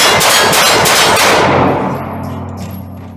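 A 9mm pistol firing during a recoil test, with loud, sharp reports in quick succession followed by a ringing, metallic decay that fades into a quiet tail.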